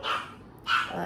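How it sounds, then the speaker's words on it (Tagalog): Two sharp dog barks close by, separated by a short pause, the second followed by a lower tail. "sorry sa ingay ng aso"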